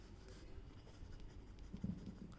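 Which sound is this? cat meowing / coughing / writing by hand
writing by hand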